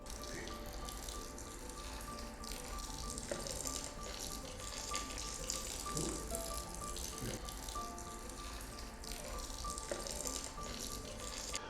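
Water poured from a container into a groundwater aquifer model makes a steady, soft trickling and rattling, quiet and close, with no voices.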